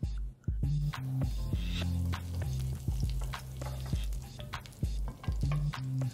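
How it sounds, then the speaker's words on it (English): Curry leaves crackle and sizzle in hot oil in a pan on a gas stove, ready for frying fish: loud, close spitting pops over a steady frying hiss, with a faint hum underneath. "Once the curry leaf starts crackling"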